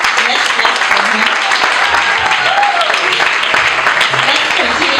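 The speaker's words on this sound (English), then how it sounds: "Let's clap for him" Applause from a graduation audience in Nairobi, steady dense clapping that fills the clip, with a voice faintly audible underneath.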